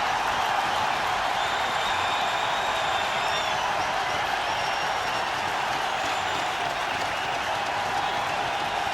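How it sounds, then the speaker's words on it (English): Cricket crowd at a One Day International between India and New Zealand, on its feet cheering and applauding after a wicket, a dense steady roar of clapping and voices filling the whole stretch. "Well, the crowd are on their feet."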